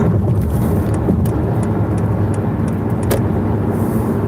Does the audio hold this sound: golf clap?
no